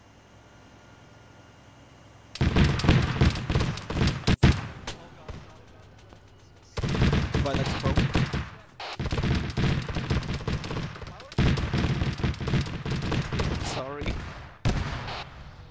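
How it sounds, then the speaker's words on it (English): Bursts of rapid automatic gunfire in a military video game, several sustained volleys separated by short pauses, loud and close, with players talking over it. "This guy's shooting at us."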